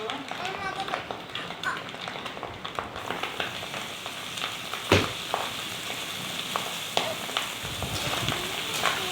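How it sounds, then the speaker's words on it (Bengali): Noodles tipped into a hot pan of fried onion, chili and egg mixture, giving a continuous close sizzle and fry crackle with scattered clatter and one sharp knock midway. "এর মধ্যে আমি লুডুসটাকে ঢেলে দিব।"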